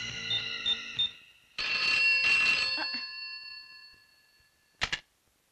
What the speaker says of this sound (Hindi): दांडेकर साहब, तनिक अस्पताल में फोनवा तो करके देखिए